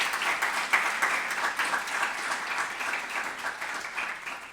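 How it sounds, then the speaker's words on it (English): Conference audience claps for the day's speakers at a parks forum closing, a steady, moderately loud round of applause that tapers slightly toward the end. "can I have another round of applause for our speakers today?"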